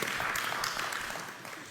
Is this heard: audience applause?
yes